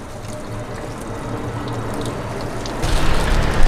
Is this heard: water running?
yes